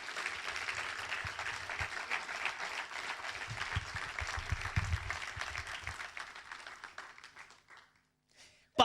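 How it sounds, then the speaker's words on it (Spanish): A church congregation claps together for several seconds, a dense, steady patter that thins out and fades toward the end, heard over a faint murmur of voices. "Den un aplauso al Señor."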